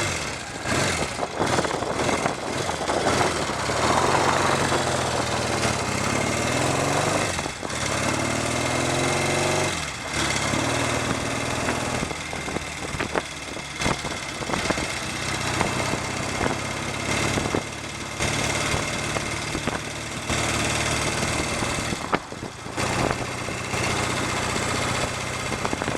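A 1970 British-made Royal Enfield Interceptor Mark II 736cc motorcycle engine runs steadily, loud and close, with a continuous rumbling throb and a few slight revs.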